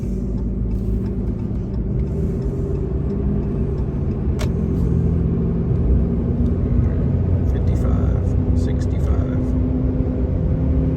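Road noise from Kenda Klever RT tires on a Ram 2500 pickup at highway speed, around 72 to 75 mph, a steady loud low rumble and hum with light rattles, unbroken throughout.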